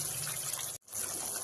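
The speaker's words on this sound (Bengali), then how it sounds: "মিক্সি ধোয়া জলটা একটু দিচ্ছি।" Water left from rinsing a mixer is poured into spice paste in a pan for a Tel Koi fish curry, a steady close hiss that stops briefly and then resumes.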